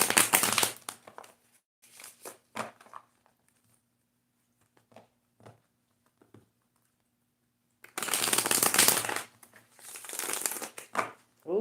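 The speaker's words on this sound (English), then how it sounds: "Ooh, that was a beautiful shuffle." Tarot cards shuffled by hand in bursts, with a riffling flurry at the start, scattered soft taps and slides in the middle, and another long close riffle near the end.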